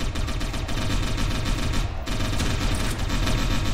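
Sustained gunfire during a shootout in the video game Satellite Reign, a steady, dense rattle of shots blending into a continuous loud wash with no clear pauses.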